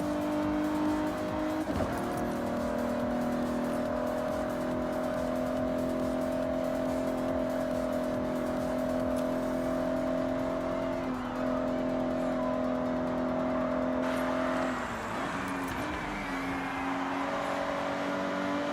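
A race car engine in Forza Horizon 6 drones steadily at high revs, shifting pitch through gear changes, with occasional tire squeal, loud and continuous throughout.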